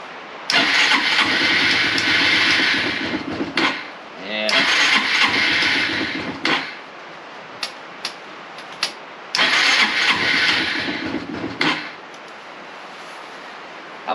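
A Honda Reflex 250 scooter that won't take throttle cranks and fires up in loud bursts, running a few seconds, cutting out, then starting again, with brief clicks in the gaps and someone talking over it.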